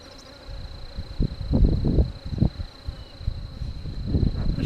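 A honeybee swarm hums in a steady, close buzz at a hive, with soft rustling and bumps from handling beneath it.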